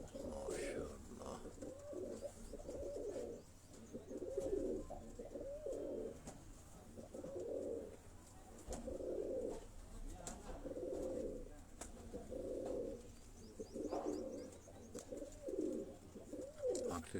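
Kasuri bloodline pigeons coo in steady, repeated rolling phrases, close and fairly loud, one after another in a regular rhythm, while people talk softly in the background.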